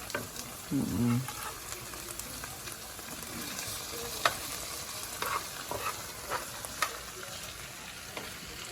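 Onions frying in oil in a pot for a shrimp and okra creole, a steady close sizzle with scraping spoon strokes and a few sharp clicks, a brief low burst near the start, no talk.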